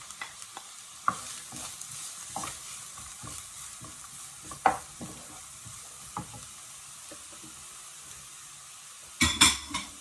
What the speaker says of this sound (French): Une fois que l'huile est chaude, je vais verser un oignon que j'ai coupé en petits morceaux.